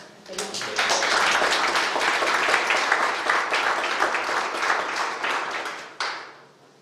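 Audience applause at a talk on reducing and making the working day more flexible, a dense, steady wash of many hands clapping that rises quickly, holds for several seconds, then fades out with a brief final swell.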